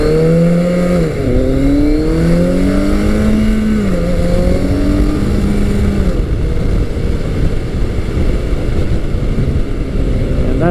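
A 1986-1988 Yamaha FJ1200 sport touring motorcycle accelerating hard, engine climbing through the revs with audible gear changes, then settling into a steady roaring cruise with heavy wind rush, close and loud.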